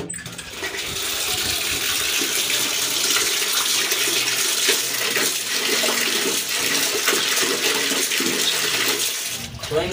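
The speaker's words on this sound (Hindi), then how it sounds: "अब इनको ना अच्छी तरह पहले धो लेते हैं पानी से।" Water splashing and sloshing as soaked, swollen wheat grains are rinsed and rubbed by hand in a metal basin, a steady continuous wash with faint clinks throughout and no talk.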